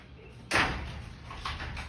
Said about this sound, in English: as we come through this heavy duty front door